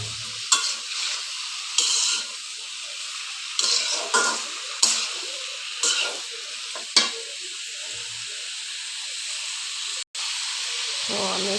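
Sweet pumpkin stir-fries in a pan, a steady sizzling hiss broken by repeated scraping strokes of a spatula at irregular intervals; close and moderately loud with no speech.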